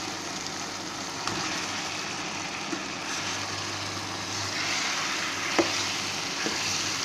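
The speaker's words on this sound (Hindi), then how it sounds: "अब इसमें मैं डाल दूंगी चिकन के पीसेस।" Chicken pieces frying in a pan for dhaba-style bhuna chicken, giving a steady close sizzle with occasional stirring clinks, continuous throughout with no talk.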